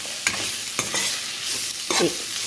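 Chicken coated in chili masala is stirred in a hot pan for a Muslim-style chicken fry, with a steady sizzle and three or four distinct scraping sweeps of the spoon, close by and without talk.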